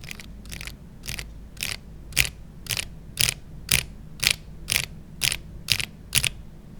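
Durock Light Tactile mechanical keyboard switches are pressed one at a time in a steady, even rhythm, each giving a crisp, close clack, about a dozen presses in a row with no talking.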